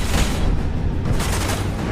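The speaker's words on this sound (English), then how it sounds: "He was immediately bombarded with gunfire" Sustained burst of gunfire in a violent standoff at a penthouse door, loud and dense with heavy booming impacts running continuously without pause.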